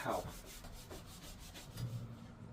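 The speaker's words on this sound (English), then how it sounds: "This is how you buff for pow." Snowboard base being buffed after waxing for powder riding, brisk close rubbing strokes in a quick repeated rhythm, no talking.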